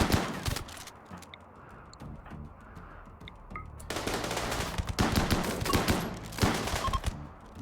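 Chain shotgun fire from the RimWorld game rattles in rapid repeated bursts, loud and dense, with a sparser quieter stretch in the middle before another sustained volley.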